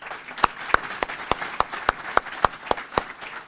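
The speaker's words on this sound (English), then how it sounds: "Would you please give our sponsors a round of applause?" Scattered applause for sponsors at a Chamber of Commerce community luncheon. About ten sharp, distinct claps fall in a steady, spaced rhythm, as if only a few people in the room are clapping.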